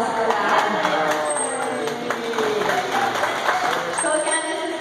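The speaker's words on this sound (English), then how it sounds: "you can give her a big round of applause for that" Audience at a dolphin show in Clearwater clapping for a dolphin named Winter, a loud, continuous ripple of applause mixed with crowd murmur and some higher whistle-like tones, lasting about five seconds.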